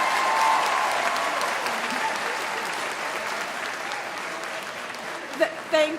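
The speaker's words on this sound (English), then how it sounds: "I'm waiting for you to clap." Applause from a graduation ceremony audience at a university, a broad wash of clapping that starts strong and slowly thins, with a voice breaking in near the end.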